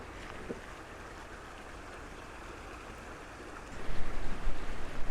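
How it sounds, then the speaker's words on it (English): Steady broadband rush of a small mountain stream flowing beside a campground in Colorado, a continuous close wash of water that swells louder toward the end. "There's a pretty little mountain stream."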